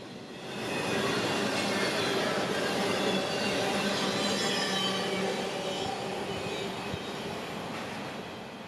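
A freight train bound from Worcester, Massachusetts toward Chicago rolls past up close, a loud, steady broadband roar of wheels and cars that swells in within the first second and holds with little change, with no talk.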